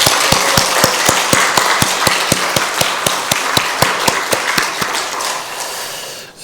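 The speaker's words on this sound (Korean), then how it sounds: "박수로 하나님께 영광 올려드리겠습니다" A church congregation claps together in a steady rhythm, about twenty sharp even claps over several seconds, loud and close, with no voices, ending abruptly.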